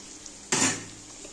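A utensil scrapes and clanks once against a pan as taro stolons frying for a Bengali mustard dish are stirred, a brief metallic stir rising over a quiet background sizzle.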